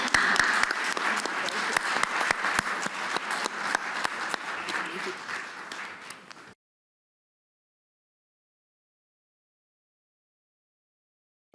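An audience at a business and economic forum applauds its panelists. The clapping is dense and even for about six seconds, then cuts off sharply into silence.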